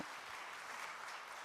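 Church congregation applauding praise worship musicians at a Friday late-night prayer service, a steady, moderately distant wash of clapping sustained throughout.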